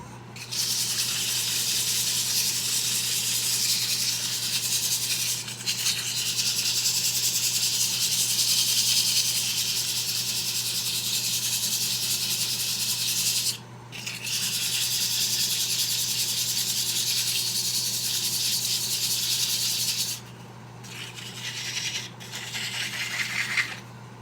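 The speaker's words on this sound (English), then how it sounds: "do a little sanding working on the bottom." Steady, continuous abrasive rasping of hand sanding, close and loud, with a couple of brief pauses and a low steady hum underneath.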